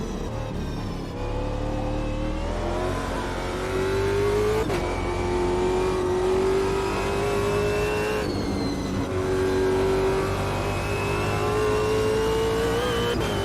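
Race car engine in the Automobilista 2 racing game, loud and close, revving up through the gears with climbing whine, brief lifts at each shift and a steady high-pitched drone between, heard alone.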